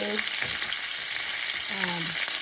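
Oxtails browning in a pan of hot oil give a steady, close sizzle across the whole stretch, with no one talking over it.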